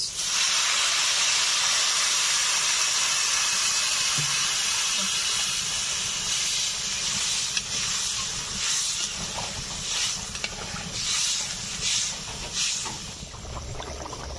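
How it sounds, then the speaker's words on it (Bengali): Water poured into a hot pan of fish curry sets off a loud, steady sizzling hiss that lasts throughout, with a few brief bubbling flares toward the end. "এখন দিয়ে দেবো পরিমাণ মতো জল"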